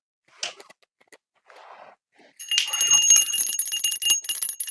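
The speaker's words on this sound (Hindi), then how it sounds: "हम इशारा करेंगे, घंटी बज जाएगी" A small hand bell rings in short separate strikes at a shrine to the goddess Durga, then a longer bright, sustained ringing with shimmering overtones follows close by.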